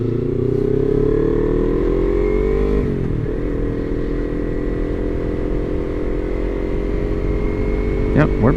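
Motorcycle cruising on a highway, a steady close engine drone with a brief gear-change dip partway through and a wind-buffeted rumble throughout, with no talk.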